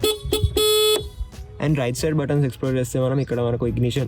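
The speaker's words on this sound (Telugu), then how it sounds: "అండ్ హార్న్ ఇలా సౌండ్ చేస్తుంది." A 2025 Suzuki Access 125 scooter horn gives two short, loud, close beeps, then someone talks over the rest.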